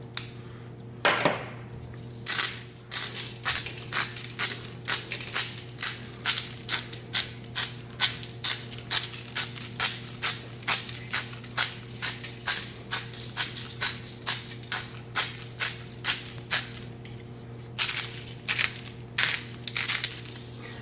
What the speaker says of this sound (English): Nice coarse grind is better than a fine grind, especially for steaks.